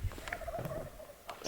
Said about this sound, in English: see if I can get this one to gobble one more time.